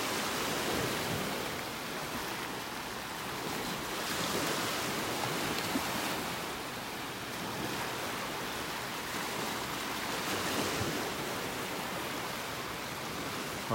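Ocean waves wash steadily onto a beach in North Naples, Florida, a continuous broad surf roar swelling and easing in slow surges, with some wind noise on the microphone and no talking.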